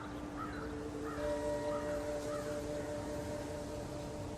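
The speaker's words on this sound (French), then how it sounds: "Une corneille à proximité aperçoit le cadavre. Sa réaction est immédiate. Aussitôt, elle se met à crier sans relâche." A crow caws repeatedly in alarm, a few harsh calls at a moderate distance over a steady background hum with faint sustained tones.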